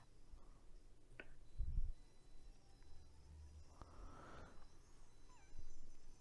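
A cat meows in the 1990 animated film The Nutcracker Prince, a faint, brief cry set against a quiet background with a few soft clicks and thumps.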